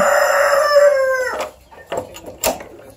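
A caged rooster gives one loud, close crow that trails off, followed by a few short clucks and scuffles.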